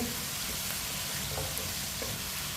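Chopped potatoes fry in a pan, a dense, even sizzle heard close and steady throughout with faint stirring scrapes, no voices.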